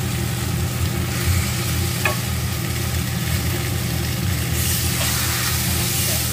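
Fried rohu fish pieces tipped into a pan of sizzling spices, a steady close frying hiss with a faint scrape or two, no talking.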